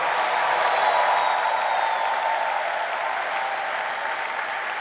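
A church congregation applauding and acclaiming the Lord, steady sustained clapping from a large crowd that fades slightly over a few seconds, with no distinct voices.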